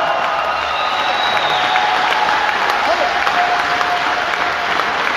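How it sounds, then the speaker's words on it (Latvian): A large crowd applauds loudly at a homecoming welcome for an Olympic champion in Jelgava, steady dense clapping that holds strong for the whole stretch, with some cheering mixed in. "Vēl skaļāk aplausi"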